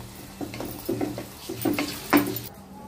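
Ginger garlic paste goes into frying onions in a pan for chicken curry, and a spoon scrapes and clinks in several quick strokes over a soft sizzle, ending abruptly.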